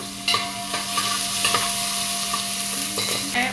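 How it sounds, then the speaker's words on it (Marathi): Cumin, asafoetida and chillies crackle in hot ghee as a spoon stirs the pan, a close, steady sizzle broken by scraping and clinks of utensil against metal. "जिरं, हिंग, मिरची याची फोडणी."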